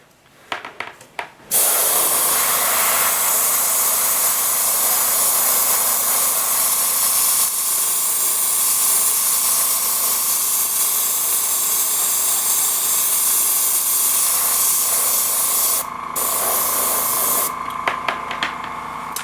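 An airbrush sprays white paint onto a foam model plane in a steady, close hiss that runs almost unbroken after a short start, with a brief pause near the end.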